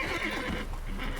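Horse in the video game The Witcher 3 letting out one loud, close, sustained whinny lasting just over a second, with no speech over it.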